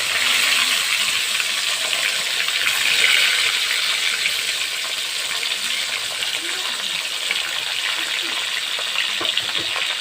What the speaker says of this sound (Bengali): এবার পটলগুলিকে ভেজে নেব নুন হলুদ দিয়ে